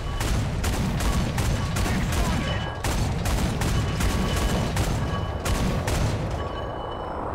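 Gunfire from a tank cannon and flak truck in the War Thunder simulator tank battle rings out as a loud, dense barrage of repeated shots and booms. It layers over a constant roaring rumble, with no talk.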